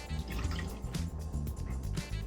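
About three-quarters of a cup of water trickles into sugar in a pot for blackberry simple syrup, a close, continuous pour with soft splashing and dripping.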